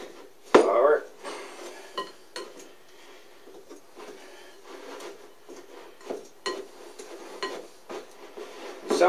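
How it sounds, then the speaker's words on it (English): A pastry cutter works butter into flour in a metal mixing bowl, producing a run of repeated clinks and scraping knocks, one sharper strike early on and steady smaller taps after, close up in a quiet kitchen. "Pastry cutter."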